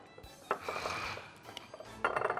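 A frying pan clanks down onto a stovetop in a home kitchen, a sharp metallic knock followed by light rattling and a second clatter near the end, close and fairly loud with no talking.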